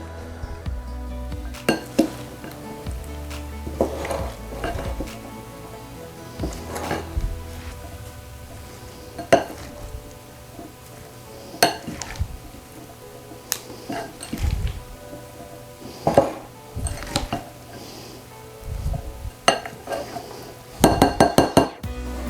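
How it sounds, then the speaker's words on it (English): A small spoon mixes fresh homemade pico de gallo with lime and salt in a bowl, giving scattered clinks and scrapes against the dish. There are sharper metallic taps now and then and a brief cluster of clinks near the end, close and moderately loud, with no talking. "Give her a little mix."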